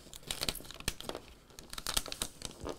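Transfer tape is peeled back from a Cricut-cut laptop decal, producing close, crisp crinkling and tearing crackles in quick uneven bursts with short pauses between them.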